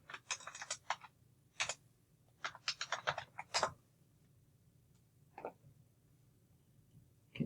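Quick bursts of key clicks on a computer keyboard, close and fairly faint, in two rapid flurries with a lone tap later and a quiet background.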